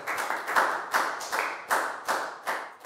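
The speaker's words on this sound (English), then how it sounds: "Big round of applause for everybody, guys" Year 4 pupils in a classroom health lesson clap in a steady group rhythm, crisp overlapping claps landing about every half second, close and even.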